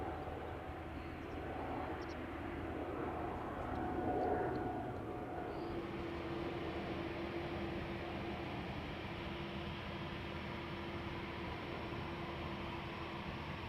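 Broadband jet roar from the GE CF6 engines of an Airbus A330 at Amsterdam Schiphol Airport, a steady rushing hum that stays fairly even throughout, with a distant whine and a slight swell partway through.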